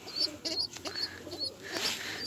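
Pigeons being fed give soft, repeated cooing calls, close and fairly clear, with a few brief coos spread across a short stretch and no talking.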